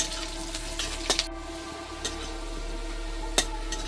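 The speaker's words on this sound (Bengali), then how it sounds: "আমি ফোড়নে পেঁয়াজ এবং রসুন দিলাম।" Chopped onion and garlic fry in hot tempering oil for dal, giving a steady close sizzle with a few sharp crackles and pops, and no voices.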